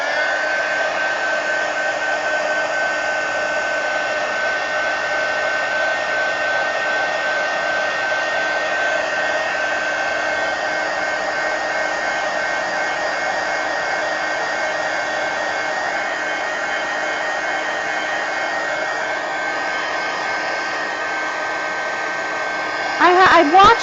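A hair dryer blows steadily on a mixed media fantasy painting, giving a continuous close whir for about twenty-four seconds that ends in a short burst of clatter.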